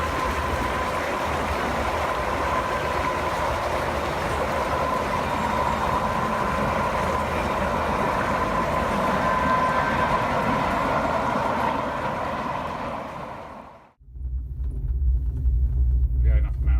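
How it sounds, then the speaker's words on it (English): A train rumbles past steadily in the Swiss mountains, a loud continuous roar that fades and drops out abruptly near the end before a low hum returns. "And here comes a train."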